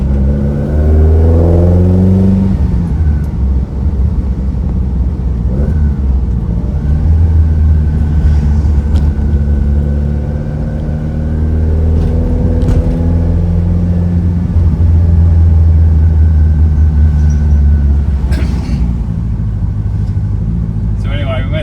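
A Ford Escort Mk1 RS1600 drives on a motorsports club cruise in Townsville. Its engine drones loud and close, holding a steady rumble as the revs rise and fall, with a continuous hum that never drops off.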